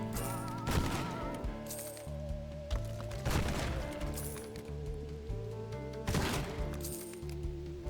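Gunfire from a shotgun-like weapon in the video game Zombieville USA 3D: sharp cracking blasts at irregular intervals over looping game music, fairly quiet overall.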